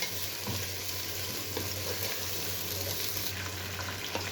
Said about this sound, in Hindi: चिकन का कलर चेंज होने तक हम इसे चिकन को फ्राई करेंगे